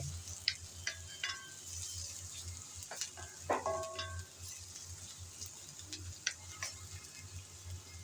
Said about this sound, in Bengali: নেড়ে চেড়ে হালকা ব্রাউন কালার করে পেঁয়াজ ভেজে নিলাম